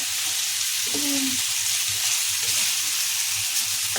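Arbi (taro root) with spices sizzling in a pan over a low flame, an even, steady frying hiss up close.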